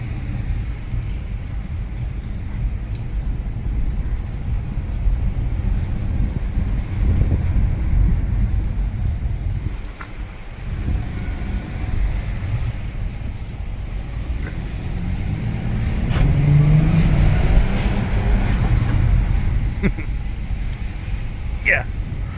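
A 2015 Dodge Grand Caravan with about 65,000 miles rolls through wet downtown Tucson streets, giving a steady low road rumble and tyre hiss inside the cabin while someone talks over it.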